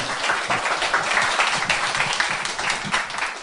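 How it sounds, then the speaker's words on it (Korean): A lecture audience at a 2014 spring special lecture event applauds steadily with dense, continuous clapping throughout, sounding close and fairly loud. "오늘 좋은 말씀해 주신 홍세아 선생님께 다시 한번 큰 박수 부탁드립니다"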